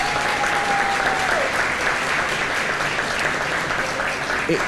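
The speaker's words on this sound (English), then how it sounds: "Give her a round of applause for me, please" Sustained applause from a luncheon audience at a county State of the County event, honoring Commissioner Erica Crawley; dense, steady clapping throughout with a faint tonal whistle early on.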